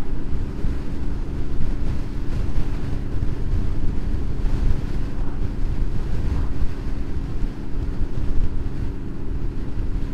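Constant broadband wind roar buffets the microphone on a Honda VFR motorcycle ridden home through high winds, a loud, steady rumble with no talking over it.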